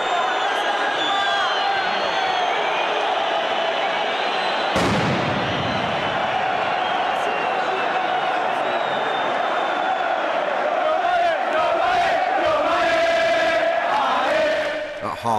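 A packed football stadium during the Rome derby between Lazio and Roma, with a loud, sustained crowd roar and a sharp bang like a firecracker partway through.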